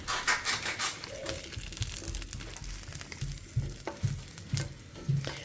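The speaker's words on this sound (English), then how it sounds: "we're going to go ahead and throw in the jalapenos" Jalapenos blister in a hot pan, sizzling and crackling close up, with intermittent knocks and shuffles of tongs turning them and no voices.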